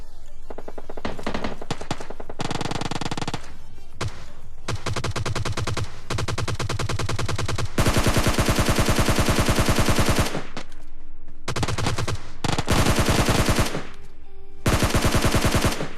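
Gunfire in a PUBG Lite battle, loud automatic bursts and rapid shots in dense clusters, with several long sustained sprays and short pauses between volleys.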